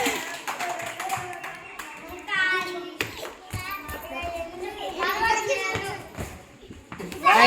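Children clap in a classroom in short bursts of applause, mixed with their excited chatter and an adult voice speaking between the rounds.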